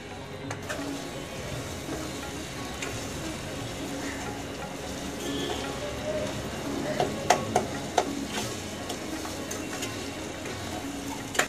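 Chicken breast and leg pieces on the bone frying and being stirred in a pot at a Kolkata dhaba, with a steady sizzle and occasional sharp utensil clinks near the end, close by and without talk.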